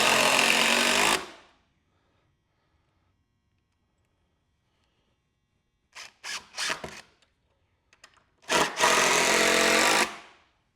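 A power driver runs in short bursts, driving screws into wood on a log cutting table: one long whir, then silence, a cluster of quick stuttering pulses and a final longer burst, all loud and close with no voices.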